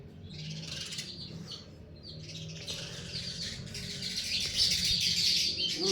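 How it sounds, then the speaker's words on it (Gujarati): Sparrows chirp busily and continuously, many overlapping high tweets that grow louder and denser toward the end. "ચકલા બોલે છે, તમે જોઈ શકો છો."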